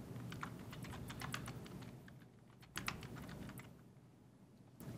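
Someone types a meeting title on a computer keyboard, a quiet run of quick, closely spaced keystrokes with a short pause partway through.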